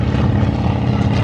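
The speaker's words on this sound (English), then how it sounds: "just imagine large propellers churning air in big circles" At an airshow, a propeller airplane gives a dense, loud, low droning roar that holds steady throughout, with no talking.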